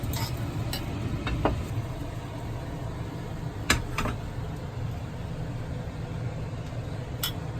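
Pork omelette eggs cooking over low heat in a little oil in a pan, a soft, steady sizzle throughout with a few sharp clicks and scrapes of a utensil against the pan.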